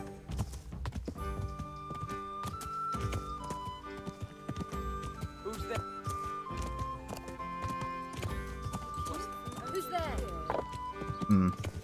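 Rhythmic horse hooves clip-clopping in the medieval video game Kingdom Come: Deliverance, with occasional neighs, over a game music score and a player talking.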